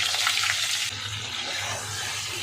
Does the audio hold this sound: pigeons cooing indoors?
no